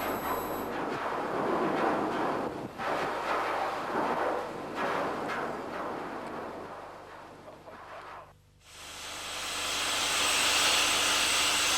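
A loud, steady helicopter rotor-and-engine roar fills the air during seal surveys in Antarctica, dipping briefly near the end before surging back even stronger.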